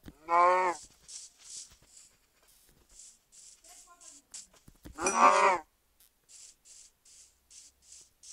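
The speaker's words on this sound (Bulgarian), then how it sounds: "О, крава. О, 3 крави, супер." Cows lowing in a video game: two loud, drawn-out moos several seconds apart, with soft repeated clicking and tapping game sounds between them.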